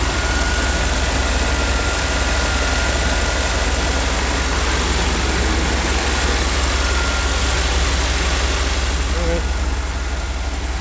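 A 1989 Chevrolet farm truck engine idles very slowly with a steady, loud, low rumble that holds unchanged for about ten seconds.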